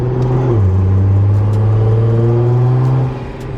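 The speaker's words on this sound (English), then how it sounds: "You hear the intakes?" Nissan GTR with a flame tune accelerating, its engine and intake noise loud and close as the pitch climbs steadily, then eases off near the end.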